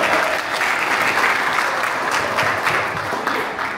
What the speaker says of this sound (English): Come on, clap it up for that.